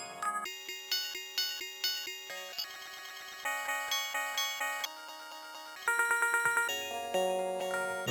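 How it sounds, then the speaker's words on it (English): Bit-crushed synth tones from a Data Bender eurorack module in a modular setup, a run of bright, gritty, repeating plucked notes with a steady rhythm, loud and close with no voices. "I'm pretty sure it is like bit crushing specifically on the data bender."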